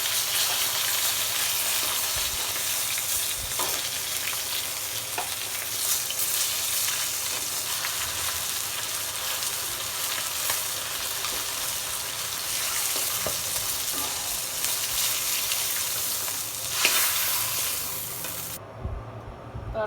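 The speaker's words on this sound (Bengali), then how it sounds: "মাছ ভাজা হয়ে গেছে, আমি এবার উঠাই নেব।" Fish fries in a pan of hot oil, a dense, continuous sizzle filling the whole stretch, close and loud, with occasional brighter spits and no talking.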